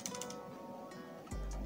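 Quiet computer keyboard typing, a few light key clicks in a brief burst followed by a soft thump, close and faint.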